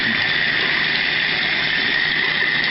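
Water runs steadily from a tap into a sink being filled with cold water to cool home-brewed beer: a loud, continuous gushing hiss, close by, with no voices.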